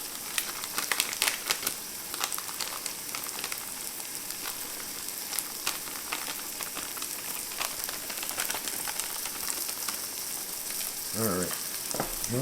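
A keto steak fajita mixture sizzles quietly in a pan while being stirred, a constant soft frying hiss with scattered crackles and clinks, ending with a brief voice near the close.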